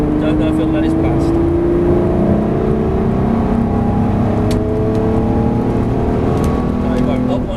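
A Lamborghini Murcielago LP640 engine revs hard at full throttle, its rising whine climbing steadily in pitch, loud and close throughout.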